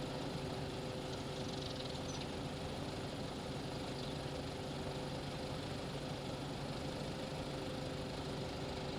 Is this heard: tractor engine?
yes